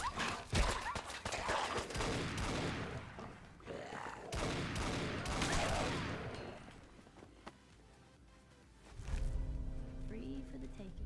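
Gunfire in the Fallout Vault-Tec DLC video game: dense bursts of shots and booms fill the first six seconds, then ease into a quieter stretch before another loud burst near the end, with game sounds throughout.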